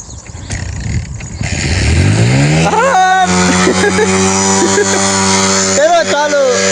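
A motorcycle pushed through water starts and revs. Its engine rises in pitch and holds a loud, steady, buzzing idle with repeated throttle blips, while people talk nearby.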